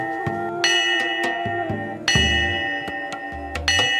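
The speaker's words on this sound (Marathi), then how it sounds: "गावातला एक जण गावातल्या देवळात येऊन एका विशिष्ट पद्धतीने घंटा वाजवतो." A village temple bell is struck repeatedly in an irregular special pattern, each clang ringing out with bright metallic overtones and decaying before the next strike, close and alone.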